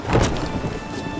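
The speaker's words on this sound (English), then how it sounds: "Must like the rain." Rain with thunder in The Witcher 3 video game, a rumbling thunder swell at the start fading under a steady hiss of rainfall, with no talking.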